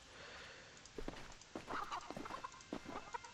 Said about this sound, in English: It's a nice bird, I forgot I had this bird.